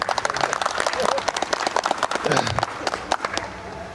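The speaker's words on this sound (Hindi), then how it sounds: "ताली बजा दीजिए भाई" A crowd at a school alumni reunion applauds with steady, dense clapping throughout, fairly close, with a voice speaking over it briefly.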